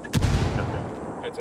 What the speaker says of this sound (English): Someone threw a grenade inside.